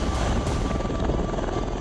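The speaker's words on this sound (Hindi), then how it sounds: "एक्सरसाइज के दौरान एयरफोर्स के हेलीकॉप्टर से जवानों की एयर ड्रॉपिंग के साथ ही चंद पलों में किसी भी ऑपरेशन को अंजाम देने की तैयारी का अभ्यास किया गया" An Indian Air Force helicopter flies during a military exercise at 9,000 feet in which troops are air-dropped. Its loud, steady rotor and engine roar fills the whole stretch without a break, and no one speaks.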